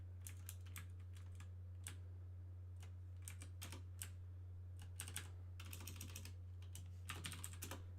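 Quick, irregular bursts of computer keyboard keystrokes, soft and close, entering a username and password, with brief pauses between clusters over a low steady hum.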